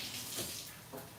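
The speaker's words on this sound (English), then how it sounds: "1 second, wash my hands" Kitchen tap running briefly while hands are washed during frittata preparation, a soft close splash of water with slight swells.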